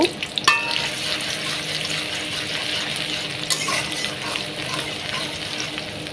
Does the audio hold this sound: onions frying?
yes